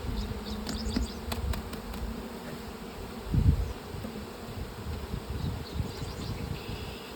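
Honeybees from a transferred swarm hum around an opened hive, a continuous close buzzing drone with a few louder passes near the microphone and faint handling bumps.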